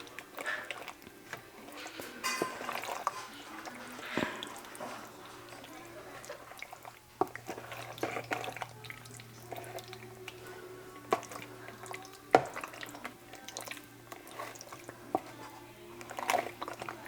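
Pumpkin ravioli tossed with pumpkin sauce: soft, wet squishing and sticky stirring come in irregular bursts with occasional light clicks of a utensil, under a low steady hum.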